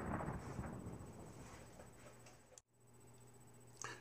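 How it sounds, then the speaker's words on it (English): A rain-and-thunder effect: a low rolling rumble with dense patter fades gradually, drops out briefly, then returns as a quieter steady hiss with faint ticking, all distant and soft. "It rains."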